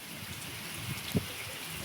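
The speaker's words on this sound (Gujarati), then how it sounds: "ફૂલ પવન ને વરસાદ છે" Heavy rain driven by strong wind lashes open farm fields, a dense continuous hiss with one brief thump near the end.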